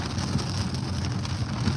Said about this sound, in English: You see this rain coming down here?